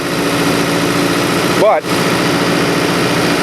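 A four-cylinder inline car engine idles steadily as it warms up, a constant even drone throughout with a brief spoken word over it partway through.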